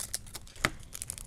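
A crystal art kit package is cut and torn open up close, giving short crinkling rips and one sharper snip of plastic, with no talking.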